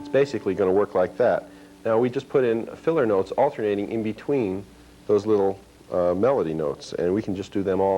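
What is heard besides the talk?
No everyday noise stands out behind the speech.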